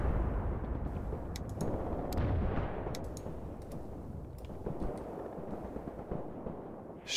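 Artillery shells landing in the war game Graviteam Tactics Mius Front, a continuous low rumble with scattered distant blasts and crackling impacts, with no talking.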